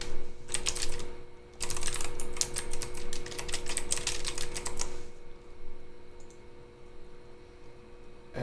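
Bursts of quick, close computer-keyboard typing clatter along steadily for about five seconds, then fade to a quieter room tone with only a stray click or two.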